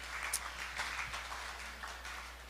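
Soft, faint round of applause from an audience at a Helium House event in New York City, steady light clapping filling the whole stretch without any speech on top.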